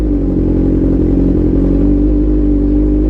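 Suzuki Hayabusa motorcycle engine revving steadily nearby, a loud continuous low rumble with slight throttle swells and no pauses.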